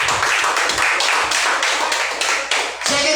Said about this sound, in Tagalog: Sige po, palakpak sa Panginoon.